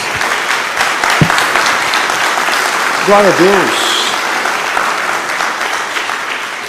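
A church congregation applauds steadily throughout, loud dense clapping filling the room, while a preacher's voice briefly calls out over it.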